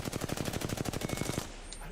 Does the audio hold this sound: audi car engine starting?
no